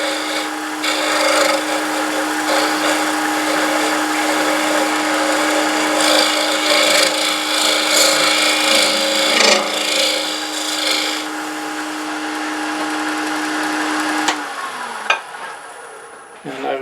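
Hand tool squaring up the dimple in the bottom of a turned wooden box, a steady close rasping scrape that runs continuously before stopping near the end with a few small knocks.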